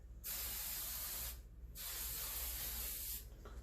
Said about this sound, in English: all I do is I spray this close to my scalp and all over my hair